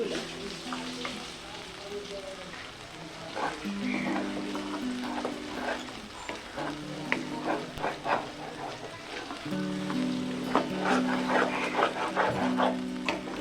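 Taro flowers and fried shrimp frying in a pan, giving a steady moderate sizzle with clinks and stirring scrapes, while a voice talks intermittently and a dog pants or barks faintly in the background.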